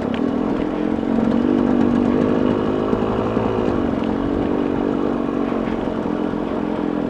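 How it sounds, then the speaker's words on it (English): Dirt bikes run steadily close by outdoors near a truck camper, their engines buzzing loudly and continuously, the pitch rising and falling slightly as they pass, with no talking. "You gotta love these dirt bikes, man. They go anywhere that you would point them."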